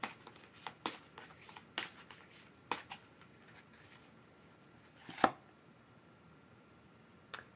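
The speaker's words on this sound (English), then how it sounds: "As I shuffle the deck" A deck of oracle cards is shuffled by hand in a quiet room, giving soft, irregular papery snaps and taps in short bursts with pauses between them.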